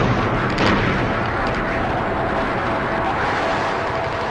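Bombs and strafing gunfire from Argentinian fighter bombers hitting a fleet in a bay during the Falklands War, a dense, sustained roar of explosions and bursts that stays loud throughout.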